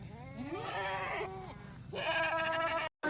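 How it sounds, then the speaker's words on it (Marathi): Several Kathiawadi goats in a herd of about fifty, with three bucks, bleat in drawn-out, wavering cries, overlapping one another at moderate volume with steady background noise. "मित्रांनो आता बघा पन्नास शेळींच्या दोघी धावणीत इकडे पण आणि इकडे पण आणि मध्ये तीन बोकड आहेत"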